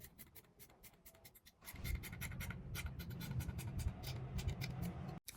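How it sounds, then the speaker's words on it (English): Scissors snipping through mesh dress fabric for a cape, a run of quiet crisp cuts up close over a soft rustling, steadier scraping of fabric across a surface. "Then I'll just go ahead and cut this out."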